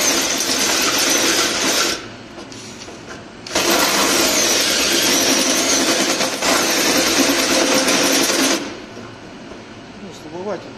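Bimetal hole saw on a drill at second speed cutting into 1.5 mm stainless steel, a loud continuous grinding whir in two long bursts with a brief lull between them and a quieter tail at the end.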